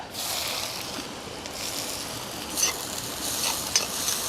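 Chopped shallots and onion sizzle steadily in a hot iron pan, a continuous close hiss with a few brief crackles and stirring scrapes, no voices.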